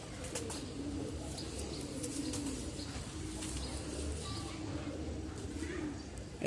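Stone-eyed pigeons, a rare breed, coo softly in a low steady murmur at a Lalbagh pigeon market in old Dhaka, with faint chirps and wing flutters under quiet background chatter.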